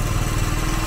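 A motorcycle engine idles smoothly and evenly up close, a continuous low, steady thrum filling the whole short stretch with no talk over it.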